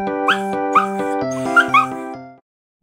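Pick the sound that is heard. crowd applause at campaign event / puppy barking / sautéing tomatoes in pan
puppy barking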